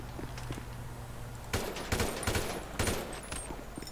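Gunfire in the GTA 5 video game, a few rapid bursts of shots following a quieter stretch, loud and close, with no talking over it.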